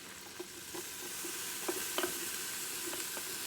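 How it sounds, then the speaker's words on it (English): Bacon and butter fry in a Ninja Foodi, a soft, steady sizzle broken by small crackles and pops scattered throughout, fairly quiet and close, with no speech. "I hear that sizzle already"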